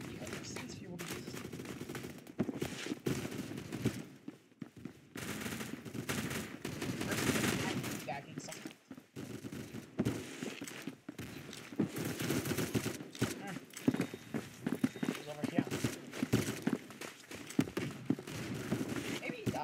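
Shotgun and rapid gunfire in the Roblox shooter Phantom Forces, repeated sharp blasts in irregular bursts with footsteps between them, under a player's voice talking throughout.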